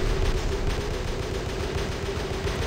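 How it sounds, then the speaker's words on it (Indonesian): Robot weapons firing in the War Robots mobile game, a dense, continuous barrage of rapid gunfire and blasts that stays loud and steady throughout with no pauses. "Sekarang tembak."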